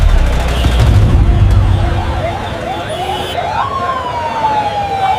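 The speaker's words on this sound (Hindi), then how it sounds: "यह सायरन की आवाज कौन आ रहा है?" A wailing siren sweeps up and down over a low rumble of traffic, growing clearer toward the end.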